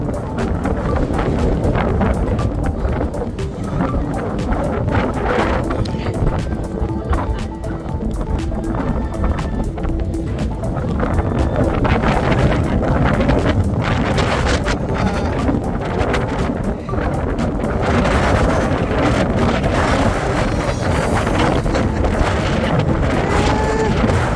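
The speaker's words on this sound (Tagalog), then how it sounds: "grabe ang hangin, napakalakas" Strong wind at Sulby Lake roars and buffets the microphone continuously, a loud rough rumble with gusts swelling and easing throughout.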